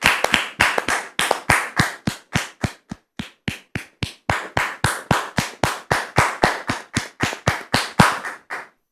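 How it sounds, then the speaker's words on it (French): Studio audience clapping together in a steady, even rhythm, about three or four claps per second, loud and close, with no talk. "nous allons recevoir maintenant Dame Rose sous vos applaudissements, très chers frères et sœurs"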